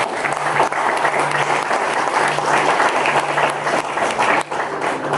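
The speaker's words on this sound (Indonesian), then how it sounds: "Kita tepuk tangan buat kedua orang tua saya." Congregation applause at a church service ordaining a pastor, sustained clapping from a crowd at close range with a faint steady hum beneath, dipping briefly near the end before continuing.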